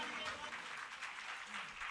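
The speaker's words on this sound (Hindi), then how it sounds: "एक बार पुनः ताली बजा करके स्वागत करें।" Audience applause at a Shrimad Bhagavat Katha in Agra, steady clapping from a seated crowd welcoming guests, continuous and moderately loud for a couple of seconds with no break.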